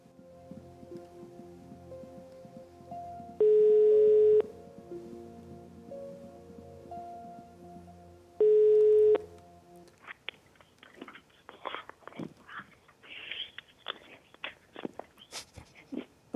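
A landline call on a Romanian TV game show gives two long ringback tone bursts over soft background music, after which rustling and voices take over.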